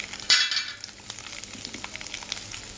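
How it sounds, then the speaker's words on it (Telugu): Cumin and tempering spices hit hot oil for tomato pickle, a sharp sizzling burst that quickly settles into a soft, crackling fry with faint ticks, and no one speaks. "పోపు దినుసులతో పాటు జీలకర్ర 1 టేబుల్ స్పూన్ వేసాను ఫ్రెండ్స్."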